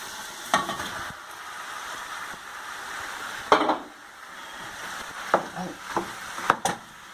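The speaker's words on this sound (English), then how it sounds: "Now I'm going to put the beef." Beef sizzles in a pot during beef stew cooking. The frying hiss is steady and fairly soft, with intermittent scrapes and clacks from stirring.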